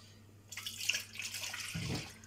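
A glass of water poured into milk while making Turkish pide dough, a close splashing pour lasting about a second and a half with no talk over it.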